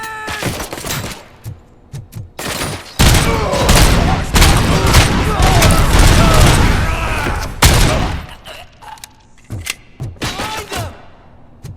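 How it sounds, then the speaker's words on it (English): Grenade blast and heavy combat in the first-person shooter RoboCop: Rogue City, a loud sustained burst of explosive and gunfire noise in the middle, with shouted voices and sporadic shots before and after. "Look out! Watch out! Grenade!"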